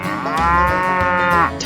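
A cow in a 3D animal video game gives one long, loud, drawn-out moo that fills the whole moment with no talking.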